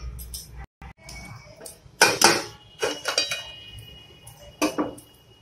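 A lid is set onto a cooking pot of fried potatoes and water, producing a handful of close metallic clinks and clatters spaced unevenly between quieter pauses.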